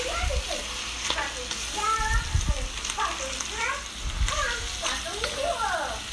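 Three eggs are stirred into browned meat in a hot pan, giving a continuous sizzle with scraping spatula strokes, while someone talks throughout.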